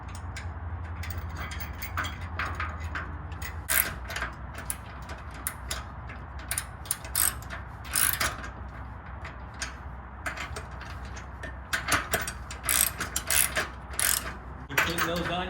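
Ratchet wrench tightening a lock nut with a flat washer onto a running board bolt of a 2021 Toyota Tacoma TRD Off Road Double Cab, with repeated close ratcheting clicks in bursts and pauses.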